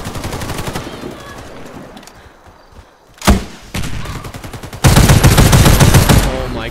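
Rapid automatic bursts from an Imbel IA2 assault rifle in the first-person shooter Warface, loud and close, with a sharp single crack near the middle and a long sustained volley at the end, faint game ambience between.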